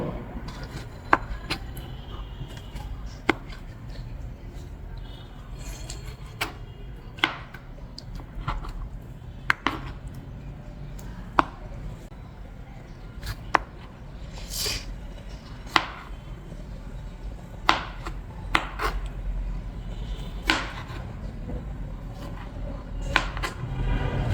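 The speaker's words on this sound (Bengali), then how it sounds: "টমেটোগুলোকে ছোট ছোট টুকরো করে নেব" Tomatoes are cut into small pieces with a knife on a board, giving irregular sharp taps spread over a long stretch. The taps sound close and fairly quiet against a low background hum, with no talking.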